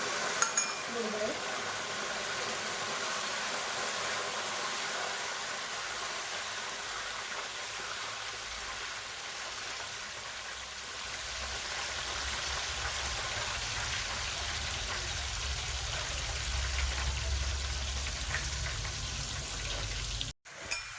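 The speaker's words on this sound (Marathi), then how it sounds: "बारीक गॅसवरतीच मी हे तळते" Steady crackling sizzle of banana chips frying in oil over a low flame, continuous and fairly loud throughout, with no voices.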